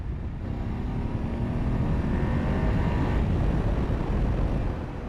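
A BMW F850GS motorcycle accelerating from 60 to 100 km/h in third gear, its engine note a loud, steady roar with a rising tone, close to the microphone and free of talk.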